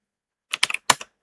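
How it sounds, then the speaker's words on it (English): About five quick keystrokes on a computer keyboard click out in a short burst after a moment of silence, close and crisp, with no voices. "I'm typing before I'm thinking."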